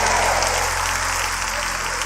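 A church congregation breaks into sustained applause, a dense and even wash of many hands clapping together that fills the room with no gaps.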